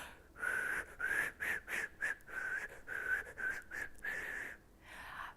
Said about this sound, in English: Can you all whistle?